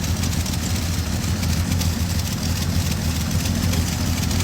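A 1972 Chevy truck's six-cylinder engine idles steadily, a continuous low rumble that stays close and even throughout with no other sounds.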